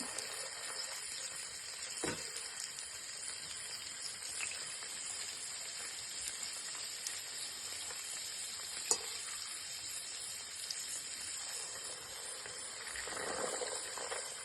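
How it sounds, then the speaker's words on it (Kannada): Cut vegetables, including potato, frying in a little oil for a vegetable pulao, a faint, steady high hiss that continues quietly for the whole stretch. "ಎಲ್ಲವೂ ಸ್ವಲ್ಪ ಎಣ್ಣೆಯಲ್ಲಿ ಫ್ರೈ ಮಾಡಿಕೊಳ್ಬೇಕು"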